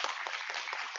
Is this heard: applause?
yes